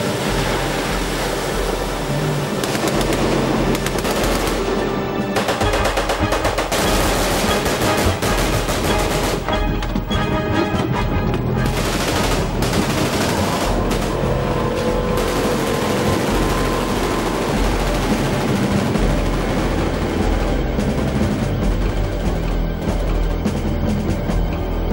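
Sustained barrage of machine gun covering fire, loud and dense, rapid overlapping bursts rattling on and off with a few brief lulls, heavy and close throughout a river gunboat combat scene, no voices.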